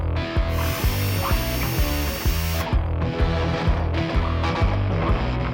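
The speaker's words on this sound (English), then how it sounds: "Remove two M6 Torx screws with a T40 Torx bit." A power driver with a T40 Torx bit backs out M6 Torx screws on a Polaris RZR Pro XP rear panel, giving a loud, steady whirring with rapid ratcheting clicks that runs continuously and close-up, with no voices.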